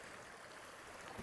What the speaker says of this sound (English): very good flow of water.